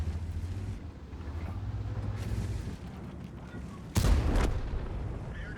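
A single heavy tank cannon blast in World of Tanks booms out suddenly, loud and close, over a steady engine rumble.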